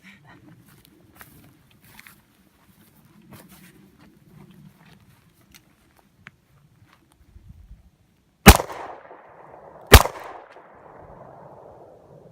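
Two sharp, loud shots from a Smith & Wesson 686+ revolver with a 3-inch barrel, about a second and a half apart and each trailing a short ring, come after a stretch of faint background sound.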